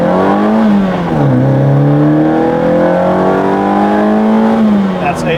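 Modified Abarth A112 hatchback accelerating hard from standstill to 80, its engine note climbing through the gears in rising sweeps with brief dips at each shift, loud and close from inside the car.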